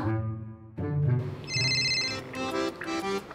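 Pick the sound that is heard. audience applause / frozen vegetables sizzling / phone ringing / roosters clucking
phone ringing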